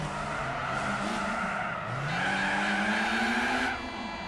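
Tires squeal on a VW Lupo in Gran Turismo 4, a sustained screech rising and sliding in pitch over a revving small engine, lasting several seconds before easing off, with no voices.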